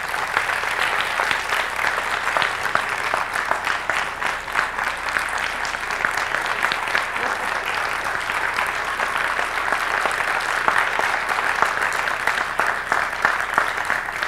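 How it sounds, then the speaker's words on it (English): Sustained applause from an audience at a 2022 sports hall of fame ceremony honouring four inductees, dense and even clapping that carries on throughout without letting up. "everyone to give a round of applause to these four very special people."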